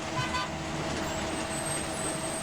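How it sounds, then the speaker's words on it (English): A bus pulls up outside, used as a podcast sound effect: a steady, loud vehicle engine rumble with a brief horn-like toot near the start, continuous traffic noise throughout. "I can hear the Arkham bus pulling up outside"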